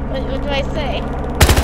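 Video game gunfire in Battlefield Hardline on Xbox One, a short burst of loud rapid shots at the end, after a stretch of game sounds with people talking over it.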